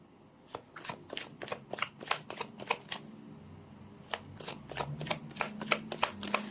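Rapid riffling of a deck of cards being shuffled, several quick bursts in a row, close by with no talking.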